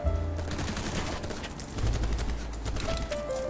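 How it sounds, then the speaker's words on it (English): Rapid gunfire and bursts of shots in a BattleBit battle, dense and continuous across the clip with sharp impacts that may include armor cracking, loud and close with no talk over it. "I just heard an armor crack and some gunshots"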